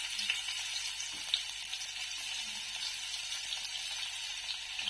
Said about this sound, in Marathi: लसूण टाकते थोडासा